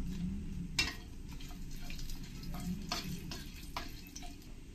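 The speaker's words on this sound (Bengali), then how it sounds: "এবার এর মধ্যে কিছু গোটা মশলা, তেজপাতা, শুকনো লঙ্কা দিয়ে আমি একটু ফ্রাই করে নেব।" Whole spices, bay leaves and dried chillies frying in oil for paneer masala, a faint steady sizzle broken by a few soft clicks and taps of a utensil against the pan.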